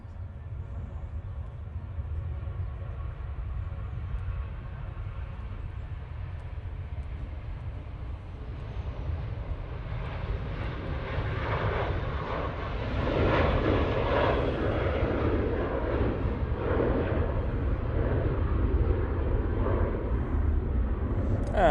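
A Ryanair Boeing 737-800 jet rolls for takeoff at Manchester Airport, its engine roar building from a low distant rumble to a louder sustained thunder, with no talking.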